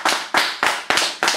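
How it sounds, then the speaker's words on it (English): Clapping follows a poetry reading: five crisp, evenly spaced claps, close and fairly loud, each ringing out briefly before the next. "A moving set of poems from Lisa, so please more applause."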